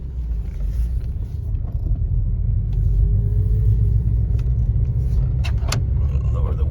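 A high-mileage manual Honda Civic Si drives along, its low engine and road rumble steady and close from inside the cabin, with a couple of brief clicks near the end.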